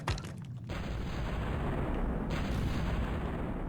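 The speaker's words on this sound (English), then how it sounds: "These cluster shells in fast reload mode." Cluster shells from a heavy tank in the Factorio video game: a sharp opening blast, then a dense, continuous roar of rapid-fire detonations at fast reload that stays loud and steady throughout, with no voices.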